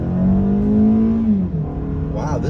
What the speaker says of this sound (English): we'll try to get a good launch about half throttle, then lean into it right here.